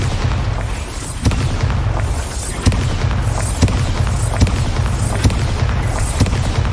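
Bombarda blasting spells cast in Hogwarts Legacy explode in a steady series, loud booming bursts landing roughly every second over a dense, rumbling background of combat noise.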